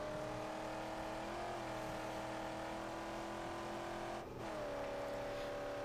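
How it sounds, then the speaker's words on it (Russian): Steady engine drone of a battered car driving in the video game Mad Max, a continuous loud hum with shifting pitch and a brief dip near the end, no talk. "Тачка раздолбана уже вся в щи, но я думаю, что мы сможем доехать."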